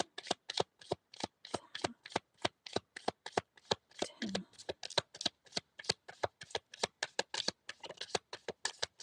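Tarot cards are shuffled by hand in a steady run of quick, crisp riffles and flutters, close and fairly loud, continuing for about nine seconds with no one speaking.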